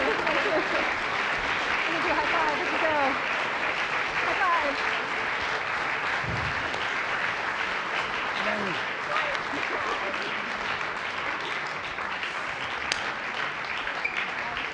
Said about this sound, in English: So thank you for that applause